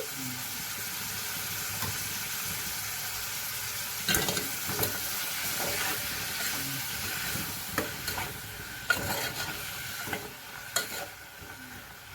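A spoon stirs broad bean chicken curry with salt in a frying pan, scraping and clinking against the metal over a continuous sizzle.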